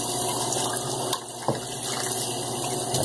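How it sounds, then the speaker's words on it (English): Tap water runs steadily into a shaving bowl being rinsed in a sink, a close, continuous splashing rush with a couple of brief knocks as the bowl is handled. "Oh, I gotta rinse that bowl."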